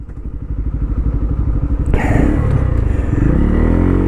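A Pulsar F250 motorcycle engine in a drag race sounds loud and close, with a pulsing throb that builds, then jumps into a sustained high-revving roar as it bounces off the rev limiter.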